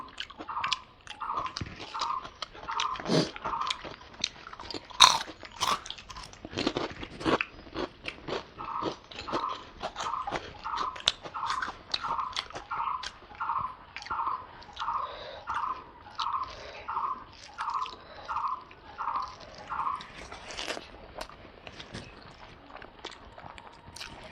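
Chewing and biting sounds with a steady crunchy rhythm, heard close up, while salad is eaten alongside a meal of spicy mutton curry and rice. No talking is heard over it.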